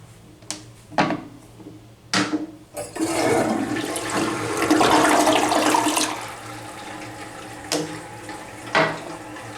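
A Toto toilet in a hotel bathroom flushes with a loud rushing surge of water that fades into refilling, preceded by a few sharp clicks and knocks nearby.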